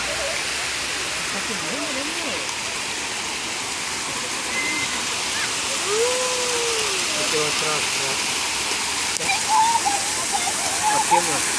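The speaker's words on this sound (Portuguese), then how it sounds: "Mais uma cachoeira aqui, gente." Steady, rushing water roars continuously from a waterfall, with voices talking faintly over it now and then.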